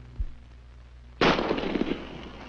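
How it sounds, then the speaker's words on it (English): A small-caliber bullet is fired at a block of ice. One sharp crack is heard after a short quiet pause, and a brief rough burst of noise trails off behind it. "Let's see what this puny little bullet will do."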